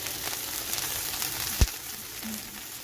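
Liver frying in a pan with turmeric, giving a soft, steady sizzle with one brief louder pop and a faint short tone near the end.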